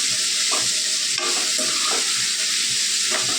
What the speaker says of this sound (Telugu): కరివేపాకు మంచిది కదండి దాన్ని వేసి వేసుకుంటున్నాను